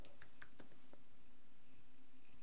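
Computer keyboard being typed on, a quick burst of about half a dozen sharp key clicks, then fading into a quiet room hum with a few faint taps.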